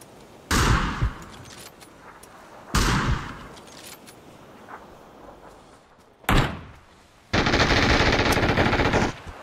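Bursts of MG3 machine gun fire in the video game PUBG, three short loud volleys followed by a longer sustained burst, with quieter game ambience between them.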